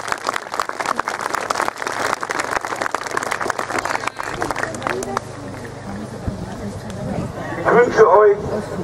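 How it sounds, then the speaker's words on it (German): Outdoor crowd applause at a village heath festival, dense clapping for about five seconds that fades into crowd chatter and voices, with speech rising near the end. "der Applaus der hier Anwesenden ist ein Eindruck dieses Dankes"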